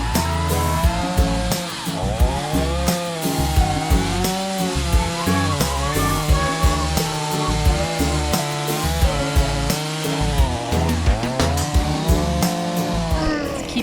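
A chainsaw cuts firewood logs into shorter pieces, its engine revving and droning steadily and fairly loud, with wavering pitch as it bites through the wood.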